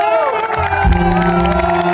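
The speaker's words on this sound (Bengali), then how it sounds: "আরো জোরে হাততালি হোক প্রকৃতির জন্য।" A large concert crowd at a live show cheers and applauds loudly and steadily, a dense wash of voices and clapping with music tones ringing over it.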